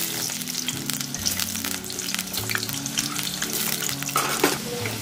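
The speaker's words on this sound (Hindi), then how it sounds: "यही तेल के अंदर हम ये जो आलू लिए हैं ना, इसको थोड़ा सा फ्राई करके निकाल लेंगे" Potatoes fry in oil with a steady, dense sizzle that runs loud and close throughout, broken by occasional stirring clatter and a few brighter pops near the end.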